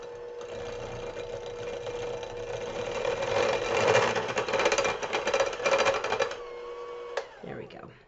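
Small electric hand mixer beating chocolate chip cookie dough, a steady close whirring drone that swells as the beaters work through the dough, then cuts off near the end.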